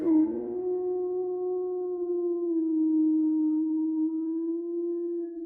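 A single long wolf howl, clear and tonal, holding a steady pitch with a slight rise and fall for over five seconds against a quiet background.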